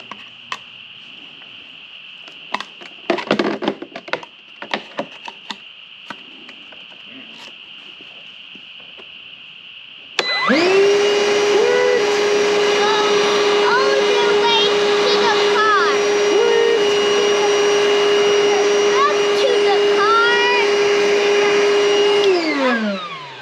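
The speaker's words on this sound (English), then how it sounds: "It's for vacuum." After some quiet tapping and handling, a vacuum cleaner switches on and runs with a loud steady whine for over ten seconds before winding down.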